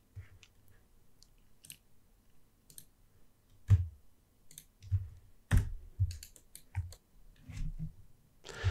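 Quiet keyboard shortcut presses and mouse clicks at a computer running Maya 3D software, scattered and irregular, some single taps and some short clusters, close to the mic.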